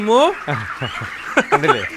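Chickens cluck and squawk close by in a short run of quick, throaty calls, with a little background noise around them.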